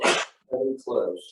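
A single sharp sneeze bursts out at the start in a church during Sunday worship, followed by short spoken words from a nearby voice.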